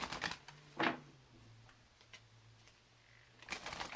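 Cards are shuffled in short riffling bursts at the start and end, with a faint low hum and quieter handling sounds in between.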